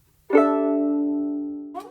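A freshly tuned violin sounds one sustained bowed note that rings clear and steady for over a second before a brief scrape at the end, heard alone and close.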